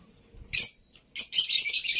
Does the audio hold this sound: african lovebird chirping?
yes